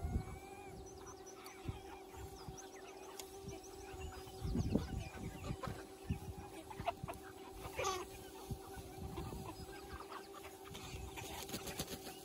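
Pasture-raised chickens on a farm cluck and call in a steady background murmur, with a louder flurry of clucks midway and scattered bird calls throughout; no one speaks.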